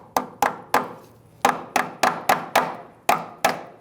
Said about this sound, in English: I'm going to use a little hammer